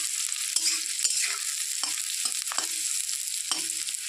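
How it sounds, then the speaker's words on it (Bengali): Oil sizzles steadily in a pan with onion, garlic, ginger and green chilli frying while a spoon scrapes and stirs now and then, producing soft knocks over the constant frying hiss; no voices. "পেঁয়াজ রসুন আদা কাঁচা লঙ্কা সব কিছু একটু ভাজা হয়ে গেছে"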